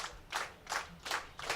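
A baseball crowd at a Newport Gulls versus Valley Blue Sox game claps in a steady rhythmic beat, about four even bursts, heard faintly from a distance.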